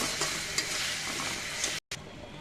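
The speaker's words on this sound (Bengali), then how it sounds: "এখন আলুটা ভালো করে কষিয়ে নেব" Potatoes stir-fried with spice masala in a pan, a steady dense sizzle with scraping stir strokes throughout, briefly cutting out near the end before resuming.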